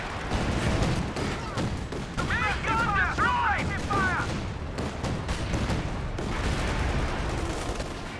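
Mortar and gunfire from the Company of Heroes 2 battle: dense, continuous bursts of shots and booming impacts with short whistling tones in the middle, all heard under a commentator's steady talk.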